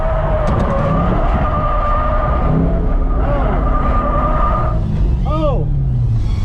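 C6 Corvette drift car running with a steady engine drone and tire squeal, close and loud throughout, with people talking inside the car over it.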